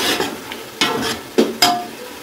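A spoon scrapes through degi chana pulao, a chickpea rice dish, as it is stir-fried in a pot. Four distinct stirring strokes rasp over a soft background sizzle, close and fairly loud.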